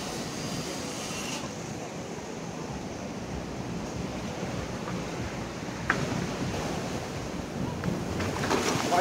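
Big ocean waves breaking on Anjuna Beach in Goa make a steady, fairly quiet wash of surf with wind noise, with no single crash standing out.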